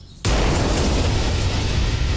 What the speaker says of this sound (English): Or a fist bump that ends in an actual explosion?